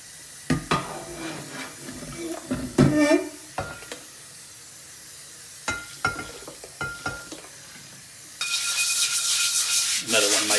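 A cheap nylon brush scrubbing a rusty item during a lye and vinegar restoration, heard as short scratchy bursts and clatters at close range, followed by a steadier, louder run of brushing near the end; no talk.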